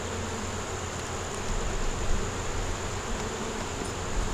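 Honey bees walk and hum on a hive frame, a faint, even buzzing drone held steadily throughout at close range with no talking.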